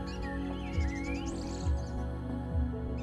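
Birds call in Wasgamuwa National Park, Sri Lanka, with faint chirps and whistled notes over a steady low background hum, no voices.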